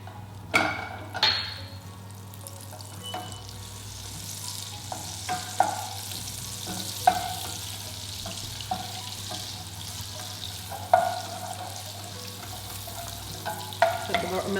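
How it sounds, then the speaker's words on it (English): Butter melts in a hot pan for a béchamel roux, making a soft, quiet sizzle broken by occasional clinks and scrapes of stirring. "let the butter melt down completely."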